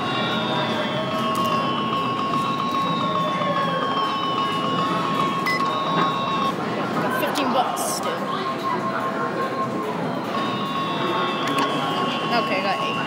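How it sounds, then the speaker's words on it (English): Cyclone arcade ticket game running in a loud casino arcade, with steady electronic tones and a constant dense din of machines and crowd noise, with people talking. "Play some Cyclone. This arcade's really loud."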